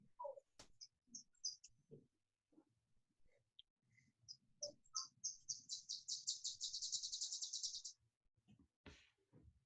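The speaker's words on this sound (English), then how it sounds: "I hear the birds, battle the gnats" Small birds chirping outdoors near a backyard grill, a series of quiet, close tweets and short calls building into a rapid trilling run before fading, with a few faint clicks and rustles between.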